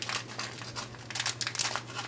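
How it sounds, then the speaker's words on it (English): A Cardfight Vanguard mystery card pack's foil wrapper crinkles and rustles steadily as someone works to tear it open by hand, with close, busy crackling bursts throughout. "I say as I'm trying to tear into it anyway"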